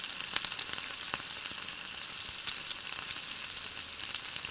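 Marinated mutton frying in masala in a pan on a village wood-fired stove, a steady loud sizzle with occasional sharp crackles and pops throughout.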